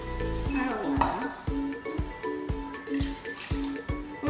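Water poured into a bowl while making mermaid jello, a steady close liquid fill broken by a series of short regular knocks or clinks, with quiet voices in the background.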